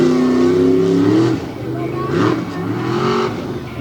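A tough truck races an off-road qualifying course in Lima, Ohio, its engine revving and shifting pitch as it rounds the final corner, loud and near, with an announcer talking over it.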